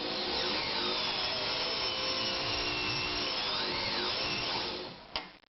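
A steady motorized whir from an Anker Phoenix Excelsior ZZ 151 sewing machine runs smoothly and evenly at close range, with slight rising and falling pitch, then stops abruptly near the end with a couple of small clicks.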